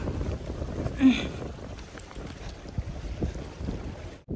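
Gusty cold wind at Larke Phedi on the Manaslu Circuit trek buffets the microphone in low rumbling bursts, fairly loud and continuous, with no talking.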